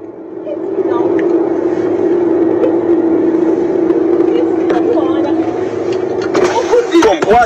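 A car engine runs at a steady low idle hum throughout, loud and close, with voices and movement rising over it near the end.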